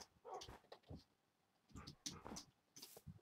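A dog in the Minecraft video game makes several short whimpering and yipping sounds in two clusters, quiet and close.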